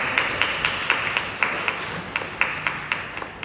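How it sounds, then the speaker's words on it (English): Audience applause at the Dominica Council on Ageing annual general meeting, a thin, steady patter of handclaps from a modest crowd, fairly distant and even throughout. "Give them a round of"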